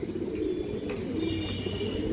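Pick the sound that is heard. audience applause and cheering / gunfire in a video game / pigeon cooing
pigeon cooing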